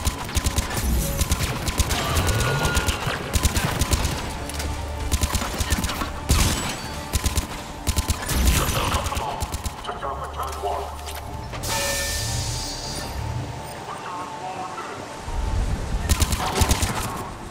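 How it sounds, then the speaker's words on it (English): Repeated bursts of gunfire in Mass Effect 3 combat, clattering volleys rising and falling over a long stretch, mixed with game noise and voices. "Just two bursts to the head and down they are."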